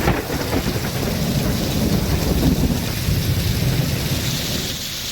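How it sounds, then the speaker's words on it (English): Heavy rain pours steadily during a thunderstorm, with a loud, rumbling crackle of thunder rolling through the downpour and no voices present. "Listen to this crackle of thunder we recorded about an hour and a half ago."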